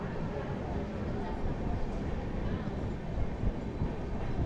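Tirumala Express (train 18521) running after departing Annavaram station, a steady broadband rumble with low-end wheel and carriage noise, continuous and fairly close throughout.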